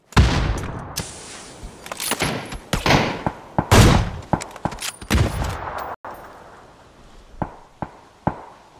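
Rapid video-game gunfire with dense automatic bursts and single sharp shots in the first six seconds, then sparser isolated shots and thumps toward the end. The shots are loud and close, and no one speaks.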